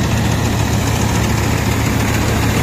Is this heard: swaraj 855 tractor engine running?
yes